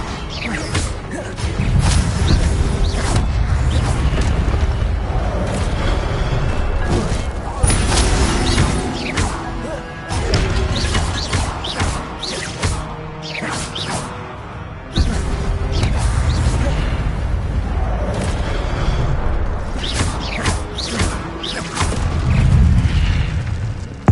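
Fire spell cast repeatedly in the Hogwarts Legacy video game, loud booming bursts and crashing impacts over dense combat noise and music, pausing briefly midway.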